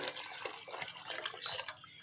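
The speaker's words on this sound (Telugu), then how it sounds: "ఇప్పుడు దీంట్లో కొంచెం వాటర్ వేసుకుందాం" Water is poured into a pot of cooked moong dal while making pesara kattu, giving a steady, close splashing and trickling wash that runs throughout with no talk over it.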